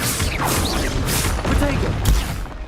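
Repeated spell blasts from a Confringo fire spell in Hogwarts Legacy, dense bursty impacts and crashes running continuously at close range, with sharper hits near the end.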